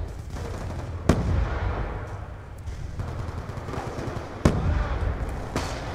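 Gunfire crackles in Call of Duty: Black Ops 2 during a Hardpoint multiplayer match, with loud, sharp bursts and distant, rapid volleys echoing over a continuous rumbling battle backdrop.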